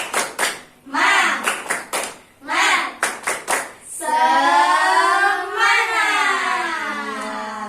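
Kindergarten children in a religious studies class perform a spirit clap: quick bursts of rhythmic group clapping, close and lively, then a loud sustained chant shouted together.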